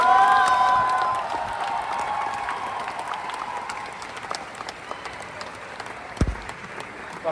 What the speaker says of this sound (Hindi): तो ताली बजाओ ना, अच्छा लगता है